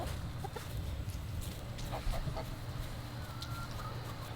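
Backyard chickens cluck softly at a coop under steady outdoor background noise, with scattered low calls throughout.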